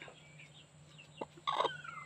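A protective black Hmong mother hen with newly hatched chicks gives a few faint, brief clucks, quiet and close with a low background hum.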